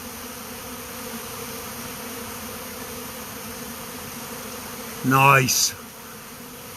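Honeybee swarm moving into a custom hive, a steady low buzzing hum throughout; a person speaks briefly near the end.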